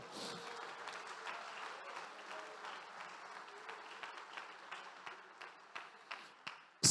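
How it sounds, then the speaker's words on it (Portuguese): A church congregation applauds during a sermon, a sustained wash of many hands clapping at moderate distance that thins out into a few scattered claps before a sudden loud bump at the end. "Aplauda o Senhor Jesus."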